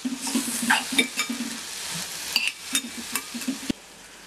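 Chilli and tomato stirred in a hot pan for paneer bhurji, steady close sizzling with repeated spatula scrapes and taps in an uneven rhythm, no voices.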